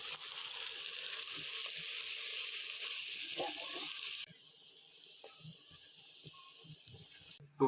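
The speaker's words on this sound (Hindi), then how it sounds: "प्याज को फुल ब्राउन करेंगे हम।" Onions frying in hot ghee, a bright steady sizzle that drops abruptly to a quieter hiss halfway through, with small clinks and handling sounds.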